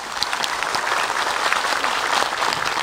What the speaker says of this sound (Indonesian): Boleh tepuk tangan ibu-ibu?